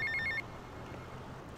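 Inside the game GTA Vice City, a telephone rings with a short trilling electronic pattern, brief repeated chirps at the start and another burst at the very end, fairly faint.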